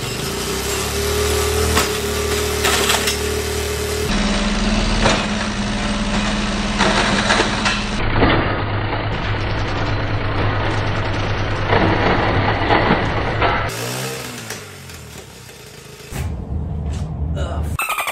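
A small motorcycle engine runs steadily as it warms up, with a continuous droning idle whose pitch shifts in stages. Near the end it drops away and is followed by rattling mechanical noises.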